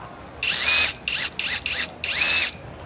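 A power drill whirs in several short bursts with a high whine, spinning up and stopping four times in close succession.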